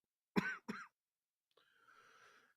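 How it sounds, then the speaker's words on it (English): Two sharp coughs close by in quick succession, followed by a short pause and a faint raspy breath or throat sound. "Stop coughing."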